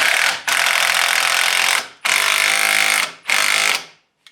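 A power tool tightens a nut on a front strut held in a spring compressor on a 1993-2002 Firebird Trans Am or Camaro: three loud, harsh bursts, each a second or more long, split by short silences.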